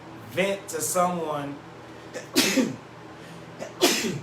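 Several sharp, close sneezes burst out, one after another, between stretches of people talking.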